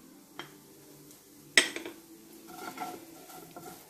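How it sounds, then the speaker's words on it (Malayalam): Clam dry fry with garam masala is stirred in a pan, giving quiet spoon scrapes and a sharp metallic clink, with a soft sizzle beneath and no voices. "നല്ലവണ്ണം ഇളക്കി കൊടുക്കണം"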